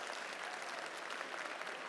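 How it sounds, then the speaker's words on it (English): A hall audience claps at a graduation ceremony, a dense, even burst of applause from many hands, brief and fairly distant. "give them a big round of applause acknowledging the support"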